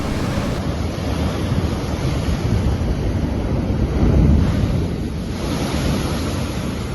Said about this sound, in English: causes waves to crash dramatically against the shore